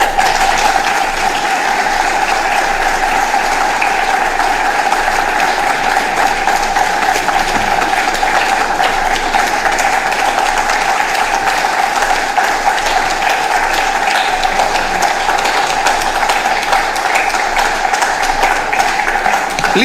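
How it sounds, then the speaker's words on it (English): Sustained standing ovation from a large audience after a state of the region address, a dense, even roar of clapping that holds at full strength for the whole twenty seconds with no voices over it. "you have received a standing ovation for giving us a very comprehensive state of the region"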